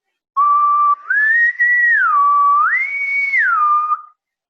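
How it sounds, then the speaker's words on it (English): A person whistles in a clear, loud, close tone, gliding up and down between low and high pitches for several seconds, alone. "So whistle from low to high"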